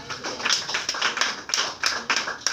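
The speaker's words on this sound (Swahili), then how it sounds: "Pigia Yesu makofi" A church congregation clapping, a loose run of sharp claps and taps in an uneven rhythm, moderately loud and close, with no talk over it.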